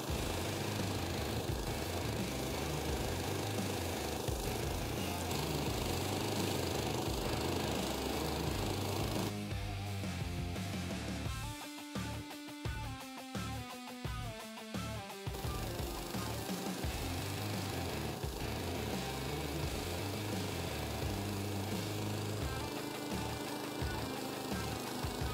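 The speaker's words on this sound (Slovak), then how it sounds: "poďme sa pozrieť, ako táto bubnová kosačka funguje v praxi" A drum mower attachment on an Agzat two-wheel tractor mows grass with a loud, continuous engine drone and rattling blades, briefly shifting into rapid, pulsing mechanical knocking midway before the steady roar resumes.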